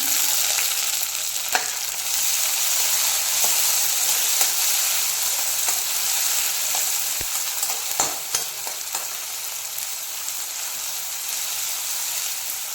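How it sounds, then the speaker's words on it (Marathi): Onion and tomatoes for a prawn kharda sauté in a pan, a steady close sizzle and hiss broken by occasional scrapes and clicks of stirring, with no voices. "तेही तीन ते चार मिनटं परतवून घ्यायचं"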